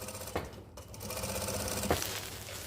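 A sewing machine stitches a seam on a dress, running in a steady close whir with a couple of brief clicks as the fabric is handled.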